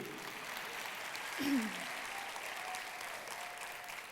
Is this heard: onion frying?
no